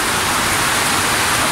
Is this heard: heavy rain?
yes